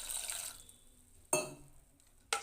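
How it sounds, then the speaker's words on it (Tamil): Water is poured into a cooking pot of sambar with a brief splashy rush, followed by two sharper pouring or clinking bursts against quiet. "தண்ணி ஊற்றிக்கலாம்."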